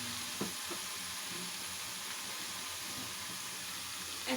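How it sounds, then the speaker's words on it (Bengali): Onion and garlic frying in oil for fried rice, a steady close sizzle with faint scraping and clinks running throughout, no voices. "প্রথমে একটু পেঁয়াজ আর একটু রসুন আমি একটু ভেজে নিচ্ছি"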